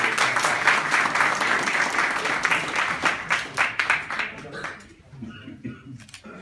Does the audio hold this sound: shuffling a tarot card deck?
no